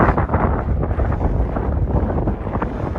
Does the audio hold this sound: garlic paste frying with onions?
no